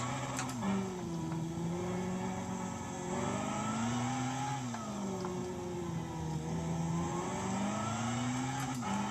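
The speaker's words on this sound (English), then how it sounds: "The sound is actually curious on some of these cars. It's actually quite muted." A race car engine in Gran Turismo 5 sounds oddly muted, a steady droning hum that rises and falls in pitch through gear changes and stays fairly quiet throughout.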